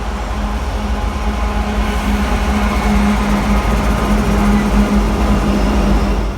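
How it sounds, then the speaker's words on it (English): A Norfolk Southern freight train with a long string of locomotives rumbles past near Oakland Junction, a steady loud drone with a low engine hum and a sustained tonal whine throughout. "I saw this Norfolk Southern train around Oakland Junction"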